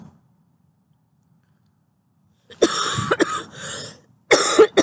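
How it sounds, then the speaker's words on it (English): A forced, staged cough comes after a stretch of near silence, with several harsh bursts in quick succession, a short pause, then one more loud close cough. "this has to be a forced cough because I'm talking about COVID, right?"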